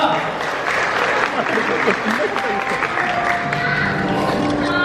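Wedding guests in a hall applauding with loud, dense, continuous clapping, mixed with crowd murmur and occasional talking voices throughout.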